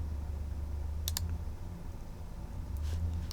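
Two quick mouse clicks on a save button in Salesforce, faint and sharp over a low background hum, then a softer click near the end.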